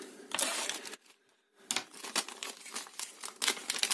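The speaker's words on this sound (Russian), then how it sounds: "Давайте распакуем пакет с деталями нашей синенькой красавицы" Plastic bag of small parts for a DIY soldering kit, a blue Christmas tree build with many LEDs, being opened and handled: busy crinkling and rustling with sharp clicks, a brief lull, then steady close rustle with no talking.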